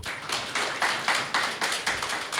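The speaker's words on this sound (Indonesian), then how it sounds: "Tepuk tangan dulu dong." Small audience at a business seminar clapping in short rhythmic bursts, roughly five or six evenly spaced synchronized rounds, moderately quiet with no talk.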